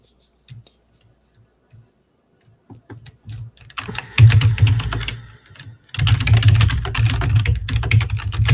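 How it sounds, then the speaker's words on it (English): Someone types on a computer keyboard during a live futures day-trading session. Close, crisp key clicks come in scattered taps at first, then build into dense, rapid bursts of typing. "Who is typing?"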